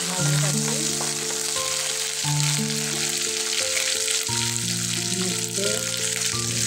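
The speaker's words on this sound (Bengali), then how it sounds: "টমেটোটা ভাজা হয়ে গেছে, মশলাটা দিয়ে দিলাম।" Spices frying with tomatoes in a pan while fish curry is cooked, a loud constant sizzle, with sustained musical tones running underneath the frying.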